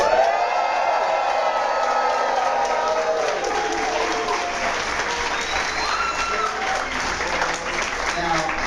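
Crowd at a Prince George's County political rally applauding and cheering loudly and steadily throughout, with scattered whoops over the sustained clapping.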